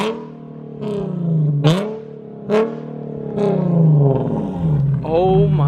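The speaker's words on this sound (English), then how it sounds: "that thing is loud. It's like ear-piercing loud." An Infiniti G37S fitted with a Nissan GT-R exhaust revs hard and loud up close, with repeated rising and falling blips over several seconds.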